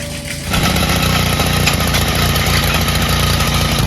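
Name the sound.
rototiller engine running at full throttle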